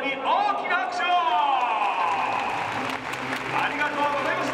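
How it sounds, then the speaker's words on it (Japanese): Applause rises from a baseball stadium crowd for the Buffaloes mascot Ponta, steady clapping heard beneath an announcer's amplified voice and other chatter. "皆さん、今日のバファローズ・ポンタに大きな拍手を"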